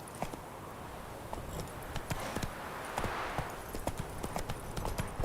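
Roach, the horse in The Witcher 3 video game, gallops along a road with rapid, steady clip-clop hoofbeats, close and clear over a soft outdoor bed.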